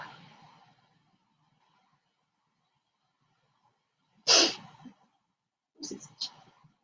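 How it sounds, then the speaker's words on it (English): Loud, sharp nasal sniffs or a sneeze-like burst from allergies after near silence, then two quicker sniffles close to the microphone. "my allergies are bad today, so I apologize for my sniffles."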